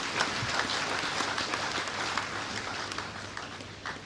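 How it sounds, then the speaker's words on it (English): Sustained applause from a crowd at an induction ceremony, dense and even clapping throughout with no speech. "Give her a round of applause, please."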